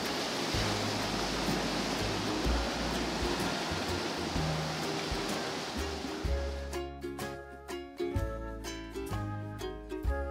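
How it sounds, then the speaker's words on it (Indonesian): Waves break onto the shore at Kuala Ceurape beach in Bireuen, a broad steady roar of surf that fades after several seconds as music comes in over it. "untuk memecah gelombang yang menerjang ke tepi pantai"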